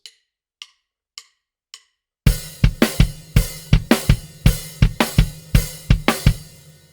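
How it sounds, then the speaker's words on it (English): A few soft clicks, then a loud drum kit groove with kick, snare and hi-hat in a bouncing swung triplet feel, steady and close. "we are back to the swung eighths again, or that triplet groove."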